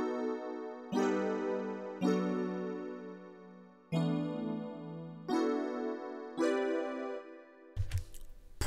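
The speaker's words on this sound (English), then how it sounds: "I love the absolute quintessential dreamy E piano sound that I got from it" Dreamy Korg M1 electric piano mixed with a pad plays six sustained chords in a slow, even rhythm, each ringing out before the next, then ends in a short burst of noise.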